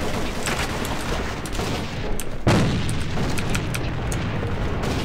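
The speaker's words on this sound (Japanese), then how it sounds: "手榴弾投擲。" A grenade blast in the video game AVA: one loud, sharp, close explosion midway through, over continuous rattling game gunfire and background noise.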